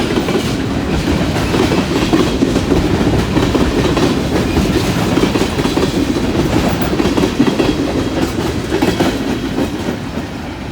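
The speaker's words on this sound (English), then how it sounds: "That was a good train." A freight train of box cars and new gondola cars rolls past close by, with a loud, continuous rumble and steady clickety-clack of wheels over rail joints, heard alone throughout.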